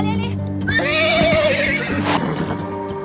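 A horse neighing in a lunging ring, a loud rising whinny close by, with hoof clip-clops beneath and people talking in the background.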